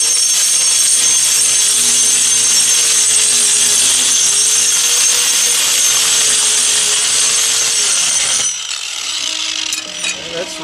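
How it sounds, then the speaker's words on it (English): A small grinder works on a foundation repair, giving a steady, loud, high-pitched whine with a faint lower rumble beneath it, before the pitch drops and the tool spins down near the end. "Then we just get a little grinder."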